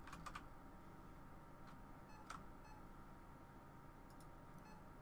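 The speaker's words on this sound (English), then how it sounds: "It beeps and the little needle moves." Ore finder in the video game Rising World beeping as it is pointed at rock, a few short high electronic beeps spaced irregularly over a steady low background hum, fairly faint.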